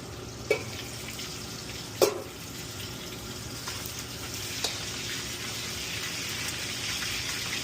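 Bacon frying in oil in a home kitchen pan, a steady soft sizzle throughout with a few sharp pops and clinks, fairly quiet and close.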